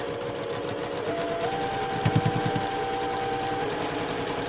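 A sewing machine stitches a quarter-inch seam on a quilt block, humming evenly up close with a brief rattling burst partway through and no talk over it.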